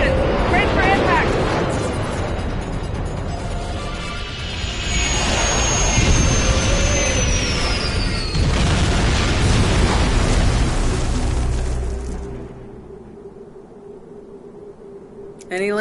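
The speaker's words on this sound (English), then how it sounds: "Get us on the ground, Commander. Crash position. Brace for impact." Spaceship crash landing in a Star Trek video game, with a loud roaring rumble, a descending whistle and crashing impact noise that fade into a quieter hum.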